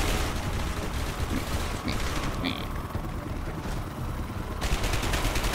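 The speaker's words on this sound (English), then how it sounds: "I like how I shot at him twice" Gunfire in the video game Dark Sector, a dense continuous burst of shots and booms filling the whole stretch at high loudness, with players talking over the action.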